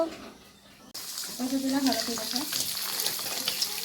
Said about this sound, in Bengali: এখন হচ্ছে পাবদা মাছ ফ্রাই, এখন ফ্রাই করা হচ্ছে